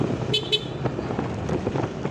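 Congested traffic on a Philippine road during a Lalamove delivery ride, with two quick car horn toots early on over a constant rumble of engines and passing vehicles, and no talking.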